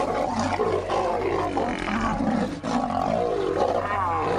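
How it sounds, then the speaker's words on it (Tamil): A lion gives a deep, rumbling roar, loud and close. The throaty growl is sustained for several seconds, dips briefly midway, then resumes. "இந்த லியோவோட கர்ஜனைய உலகம் இப்ப வரைக்கும் கேட்டுட்டே தான் இருக்கு."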